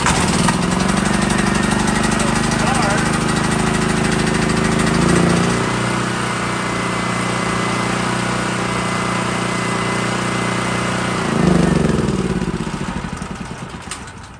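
A portable generator engine is started with a pull cord and runs, giving a loud, close, steady chugging drone that shifts in pitch about midway through and again near the end.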